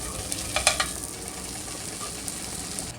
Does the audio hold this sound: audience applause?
no